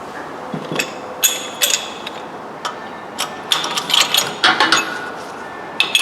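Metallic clicks, ratcheting and creaking from a mechanical press pushing a bushing into a 2002 BMW 530i control arm come in irregular bursts, growing busier toward the end.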